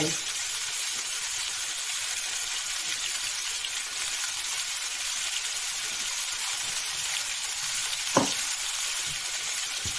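Pepperoni frying with potatoes in a pan, a steady, even sizzle throughout, close by, with one brief clatter near the end.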